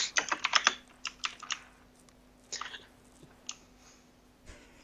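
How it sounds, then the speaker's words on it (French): Fast, hard typing on a computer keyboard: quick clusters of sharp plastic key clacks in uneven bursts, close and crisp, trailing off into a few scattered presses over a faint steady hum. "T'as l'air vénère quand tu tapes sur ton clavier."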